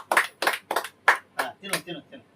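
Children's game: about half a dozen close, evenly spaced hand claps in a quick rhythm, each a short sharp burst, with voices blending in near the end.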